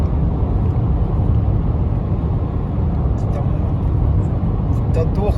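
Turbocharged 1.8-litre 2021 Subaru Forester cruising at 130 km/h on a cold road, a steady low engine and road drone inside the cabin, loud and unbroken, with faint clicks near the end.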